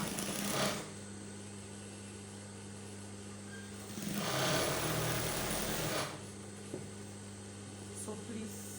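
A sewing machine stitches down the front of a V-neck shift dress in a steady, low mechanical whir, with louder bursts of running near the start and midway between quieter stretches.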